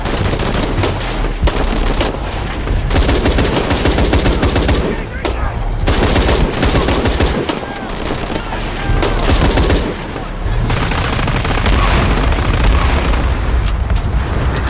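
Shadow of the Tomb Raider combat gunfire: sustained heavy automatic fire and booming blasts, loud and close, in dense overlapping bursts with brief lulls between volleys.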